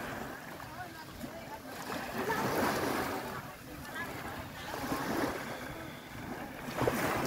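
Ocean waves wash onto a beach in a steady, surging hiss, with wind noise over the microphone and faint voices in the background.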